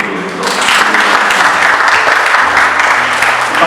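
A church congregation at a Sunday Advent service claps together in loud, sustained applause that fills the room evenly for several seconds, with faint voices mixed in.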